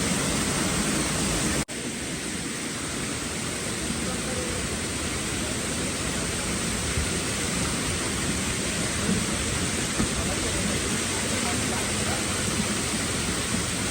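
Heavy monsoon rain pours steadily during a pilgrimage climb to the Ekvira Aai temple, a dense, loud, unbroken hiss that fills the whole stretch, with only a brief drop near the start.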